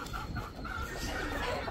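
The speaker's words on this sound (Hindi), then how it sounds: "वो देखो मुर्गी बाहर खाने आ गई" A chicken feeding outdoors gives soft, short clucks in quick bursts, faint and close, over light background noise.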